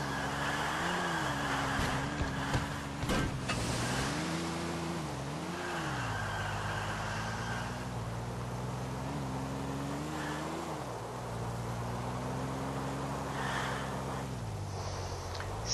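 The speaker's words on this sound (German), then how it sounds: "jetzt werden hier alle Autos mal weggedrängelt" Car engines in GTA The Ballad of Gay Tony multiplayer, a steady droning motor whose pitch rises and dips with revving as vehicles are shoved aside, with occasional scraping knocks, continuous and fairly close.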